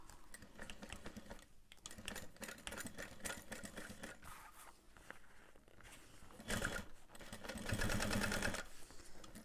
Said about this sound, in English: we're sewing through a lot with all those strap